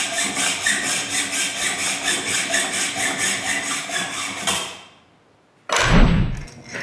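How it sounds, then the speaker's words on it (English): A hand saw cutting a threaded metal rod to length in a woodworking shop: steady rhythmic back-and-forth rasping strokes, close and fairly loud, then a pause and a short clunk. "Now I just need to cut 2 smaller lengths of rod."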